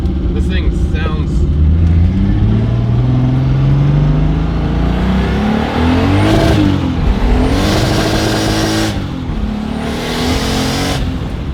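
A turbocharged BMW E30 with an M20 stroker engine revs hard, its pitch climbing steadily, then dropping and rising again in loud, close bursts. Brief hiss-like blasts break through as it lets off.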